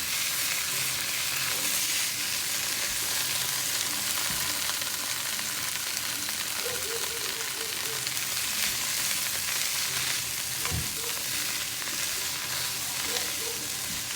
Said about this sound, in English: We're also gonna add the ginger. And we're gonna stir this good.